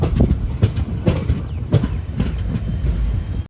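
Kanchanjunga Express train running on rails from Haflong toward Guwahati, with a loud, steady rumble and a rhythmic clickety-clack of wheels over rail joints, heard close up throughout without any voices.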